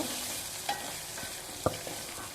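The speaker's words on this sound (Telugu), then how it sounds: "కట్ చేసి పెట్టుకున్న ఉల్లిగడ్డ, పచ్చిమిర్చి వేసుకొని కలుపుకోవాలి" Chopped onions and green chillies stirred into hot oil with cumin, giving a steady soft sizzle with a couple of brief scraping clicks from the spoon, close and without talk.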